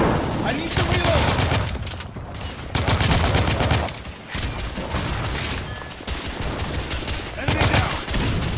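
Heavy, continuous gunfire in the PS5 video game The Order: 1886, with dense overlapping shots and bursts filling the whole stretch and only brief dips between volleys.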